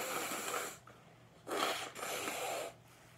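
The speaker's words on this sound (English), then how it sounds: "Gotta blow my nose real quick." A person blows their nose in two or three forceful, breathy bursts, near and fairly quiet, with no talking.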